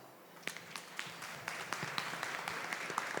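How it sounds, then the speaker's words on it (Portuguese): An audience at an ABRASEL business breakfast debate gives a round of applause, faint and distant, sparse claps at first that thicken into steady clapping. "eu queria pedir a vocês uma salva de palmas para a Brasel"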